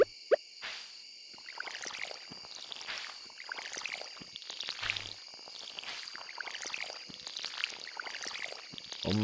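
Watering can pouring over crops in the Stardew Valley farming game, a run of repeated splashy watering sounds in quick succession over a steady synthetic background hum, no talk.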